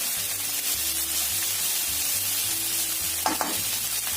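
Chives or spring onions stir-fried in a hot pan with fragrant aromatics give a steady bright sizzle, with a couple of brief scraping stirs near the end and low background hum.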